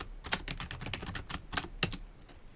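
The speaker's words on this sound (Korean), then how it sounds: "첫 번째 줄은 그냥 타이핑하고 줄을 바꿀 때는 단축키 Alt, Enter를 누르면 됩니다" Computer keyboard typing while entering text into a spreadsheet cell, a quick run of close, crisp key clicks with uneven rhythm and a few sharper louder taps, no talk.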